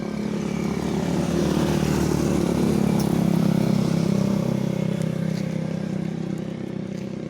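Motorcycles and other traffic roll past on a highway beside a house, a steady loud engine drone that swells in the middle and eases off, with no talking.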